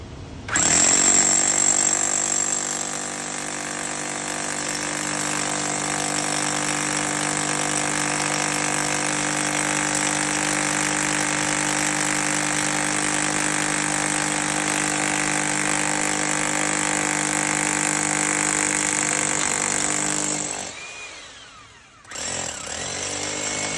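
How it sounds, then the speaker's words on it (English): A hammer drill boring a 3/4 inch hole in concrete for a ground-mount bollard runs loud and continuous for about twenty seconds, a steady grinding whine, then cuts off briefly before restarting. "We're going to start by drilling a 3/4 inch hole."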